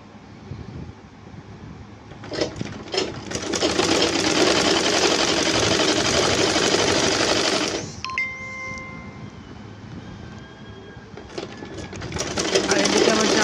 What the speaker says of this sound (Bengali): এখন আমি সামনের গলাটাও সেলাই করে